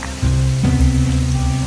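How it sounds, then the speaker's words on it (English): Heavy rain pours steadily through a bamboo forest in Maui, Hawaii, a dense close hiss that swells after a moment and holds loud and unbroken, with no voices. "walking through bamboo forest and pouring rain"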